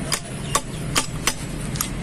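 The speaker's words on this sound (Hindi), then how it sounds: "इसको बड़ी आसानी के साथ इस तरह से सील ठोक देंगे" A seal is hammered into a bike shock absorber: about five sharp metallic taps at an uneven pace, close and fairly light, over a faint background hum.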